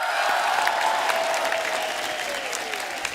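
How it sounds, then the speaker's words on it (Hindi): Studio audience applause at a Kapil Sharma Show comedy taping, steady loud clapping from a large crowd filling the whole stretch without a break. "आप सबकी जोरदार तालियों के बीच उनको मंच पे बुलाते हैं।"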